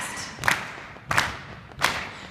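Hands slapping on thighs at a children's singalong: three evenly spaced, close, sharp slaps about two-thirds of a second apart.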